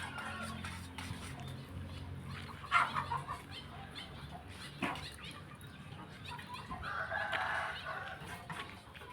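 Farmyard with hens clucking close by and a rooster crowing in bursts, a dog barking now and then, under a steady outdoor hum.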